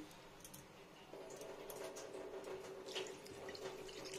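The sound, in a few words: water being poured into a pot of bitter gourd curry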